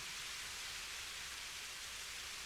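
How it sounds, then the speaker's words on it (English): Rain in the DCS World flight simulator, with an F-16 in a dogfight, sounds as a steady, dense hiss that stays even and unbroken throughout. "It's raining out here."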